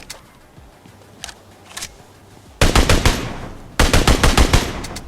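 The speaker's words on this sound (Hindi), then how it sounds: "उसी में आगे पूरी 35 गोलियाँ और उन 35 गोलियों में से वो बंदा भी नॉक हो जाता है" Uzi fitted with an extended magazine firing in PUBG: two loud sustained bursts of rapid automatic gunfire close by, preceded by a few scattered faint shots in the distance.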